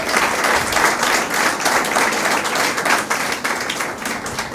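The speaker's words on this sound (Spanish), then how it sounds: "Dé un aplauso al Señor Jesús." A church congregation applauds steadily for several seconds at a worship service, a dense, loud wash of clapping with no talk over it.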